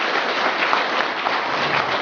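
Audience applause at an iftar gathering in Moscow, a dense steady clatter of many hands clapping without letup for two seconds, with no voices over it.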